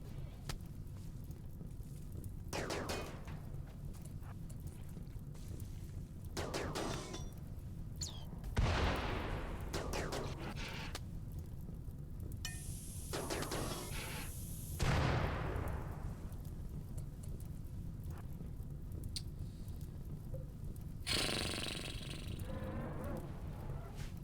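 Gunfire in the video game RimWorld comes as a few scattered, fairly faint bursts over a steady low game background, with gaps of several seconds between them.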